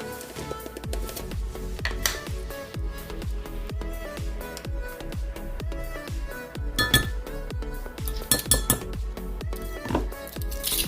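Metal spoon clinks repeatedly against a glass container while coconut oil is scooped in for a homemade garlic cold sore lip balm, a busy irregular run of bright taps and rings, close up.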